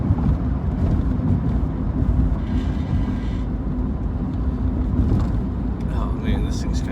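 A project Honda car with bad tie rod ends drives along, its low engine and road rumble steady under wind buffeting on the microphone, with some faint rattles and a brief clunk near the end.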